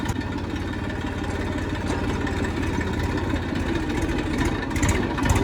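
A tractor engine runs with a steady, fairly loud mid-pitched chugging drone, continuous throughout with slight swells near the end and no talking.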